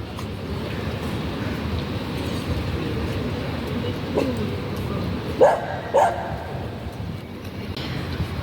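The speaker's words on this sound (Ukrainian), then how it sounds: "песики гуляють." Dogs out on a walk, heard from a distance as a couple of short barks or yips late in the moment, over steady outdoor background noise and rumble.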